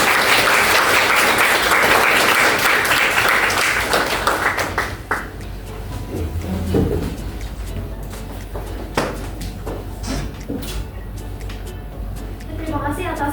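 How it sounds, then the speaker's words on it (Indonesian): Loud applause from a crowd fills the first few seconds, then fades into scattered claps and tapping noises. "Boleh tepuk tangan yang meriah."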